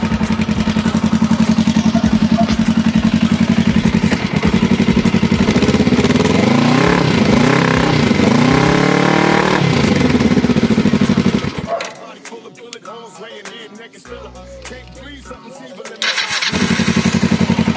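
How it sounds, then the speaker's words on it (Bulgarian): Kawasaki ER motorcycle engine cranking and catching, then idling and revving with rising and falling pitch, loud and close, before cutting out and restarting; a voice is heard over the engine. "И сега да покажем как пали. Ето го моторчето."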